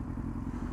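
A motorcycle idling nearby at a traffic light, a steady low engine rumble with faint rattling over the brief moment, with no voices.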